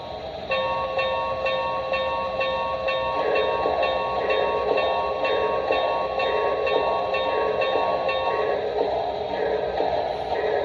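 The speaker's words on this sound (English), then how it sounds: "Let's go ahead and hear the bell." A Broadway Limited model of the ATSF 4-8-4 Northern #3751 steam locomotive: its electronic bell dings repeatedly in a steady rhythm over a constant mechanical hum, continuing for about ten seconds.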